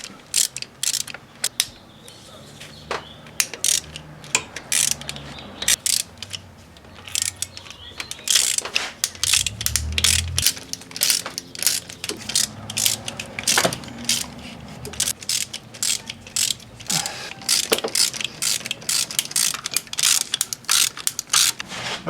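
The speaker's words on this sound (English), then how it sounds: "remove these all these bolts around the circumference of the lower intake manifold" A hand ratchet clicks in fast, repeated bursts while loosening the lower intake manifold bolts on a Chevy 3.8L engine, close and loud, with short pauses and some metallic clanks between runs.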